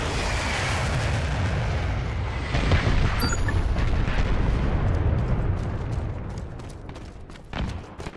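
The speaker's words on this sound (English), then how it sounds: "Deploying airstrike marker." Airstrike explosions in the online shooter Dirty Bomb make a continuous heavy roar of blasts and rumble, loud and dense, swelling and then tapering off, with a short burst near the end.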